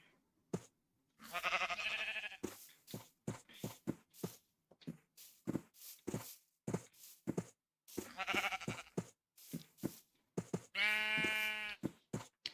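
Sheep in the video game Minecraft bleating in three separate bursts, the last a clear harmonic baa, amid a string of sharp clicks and taps, close and fairly quiet.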